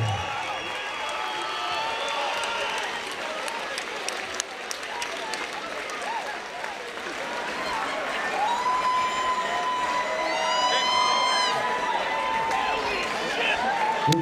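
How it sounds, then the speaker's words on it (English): Crowd at a charity boxing match applauding and cheering the two boxers, a sustained, moderately distant roar of clapping and shouts that grows fuller toward the end, with whistles rising above it. "Ladies and gentlemen, a round of applause for our two combatants, Justin Trudeau, Patrick Brazeau."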